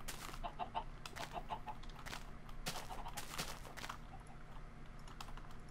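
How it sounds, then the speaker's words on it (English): Chickens cluck faintly in a chicken farm inside a Minecraft house, short scattered clucks under steady keyboard typing and clicking, no talking. "One bad thing about having a chicken farm in our house is that if anyone gets close enough to hear them, it's a dead giveaway"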